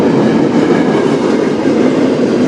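An empty freight train rolls past close by in Sarnia, Ontario, a loud, steady rumble of rail cars with faint clickety-clack.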